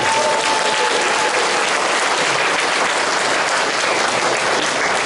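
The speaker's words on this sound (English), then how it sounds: "Can we please give a big, loud applause for Bobby Lee?" Loud, dense applause from a crowd at the VietFest 2019 press conference for comedian Bobby Lee, continuous and close throughout without any talk.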